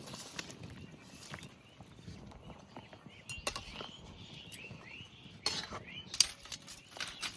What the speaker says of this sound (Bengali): এবার ঢাকনা খুলে দেখি কেমন হয়েছে।